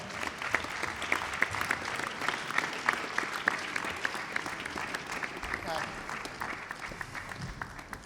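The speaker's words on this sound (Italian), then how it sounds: "accogliamola con un applauso" Audience applause for a flower presentation to a jury member at a gala concert of an international piano competition, steady clapping throughout at moderate loudness with some crowd murmur and a voice faintly over it.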